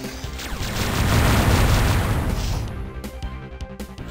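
Weapon fire in the spaceship shooter Descent with the spread fire gun, a loud sustained rumbling barrage of booms that swells and then breaks into several sharper separate shots near the end.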